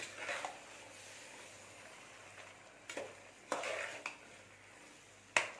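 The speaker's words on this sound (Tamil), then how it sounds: "மட்டனை சேர்த்துட்டு மீடியம் ஃப்ளேமில் வச்சு இது ஒரு ஒரு நிமிஷம் அப்படியே வதக்குங்க" Mutton stirred and sautéed in masala over a medium flame for a Tamil mutton chops gravy: a faint low sizzle under several sharp scrapes and clinks of a spoon against the pan.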